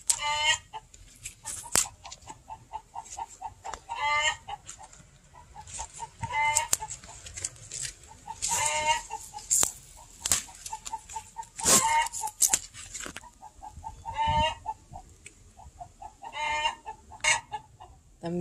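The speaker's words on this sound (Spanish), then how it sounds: "Escuchen eso. Mis hermosas gallinas." Several hens cluck repeatedly nearby in uneven bursts, with occasional louder squawks and soft rustling between calls.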